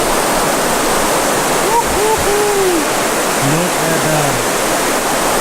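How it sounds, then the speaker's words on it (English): A river seen from a bridge produces a steady, loud broadband rush of flowing water throughout, while a voice speaks briefly over it. "There's the river."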